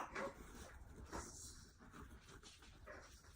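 Dachshunds whimper and whine faintly indoors in short, uneven bursts with soft panting between them, the sound thin and fairly distant.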